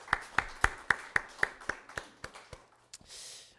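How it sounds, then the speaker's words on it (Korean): A Korean church congregation at Sunday worship claps for its birthday members, a faint, evenly spaced run of about a dozen sharp claps that slowly thins out. "6월 5일 우리 양미경 집사님, 김승희 권사님, 또 저 그리고 이덕진 권사님 우리 박수로 우리 위로하고 축복하겠습니다."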